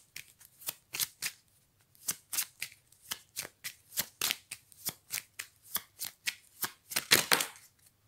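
Tarot cards are shuffled by hand, giving a steady series of about two dozen crisp riffling flicks. They are close and fairly soft, speed up into a denser flurry near the end, and no one speaks.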